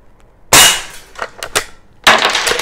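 A Legends cowboy lever-action CO2 air rifle fires a sharp, loud crack close by. Metallic lever-cycling clacks follow as the shell ejects, then a second sharp shot comes about a second and a half later.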